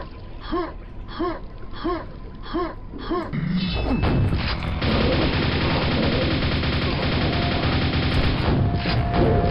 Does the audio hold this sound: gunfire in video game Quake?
yes